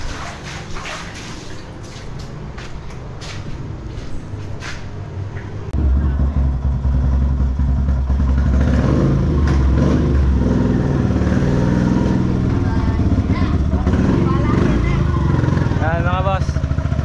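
Motorcycle engines rumble and rev nearby in San Gabriel after floodwaters receded, growing louder partway through, with people talking over the noise.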